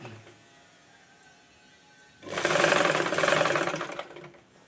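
A sewing machine stitches a shortened dress in one steady, fairly loud whirring run of about two seconds, starting after a quiet pause and then stopping.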